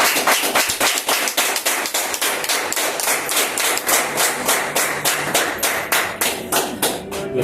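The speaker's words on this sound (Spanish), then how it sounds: "Denle un fuerte aplauso al Señor" Church congregation clapping in praise to the Lord at a Spanish-language service, sharp rhythmic claps in a steady, even beat, loud and close with no talk over them.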